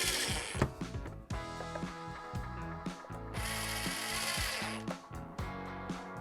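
Ratchet wrench with a 5/16 socket snugging bolts on a Jeep EGR valve, bursts of rapid clicking in quick strokes close by, with short pauses between turns.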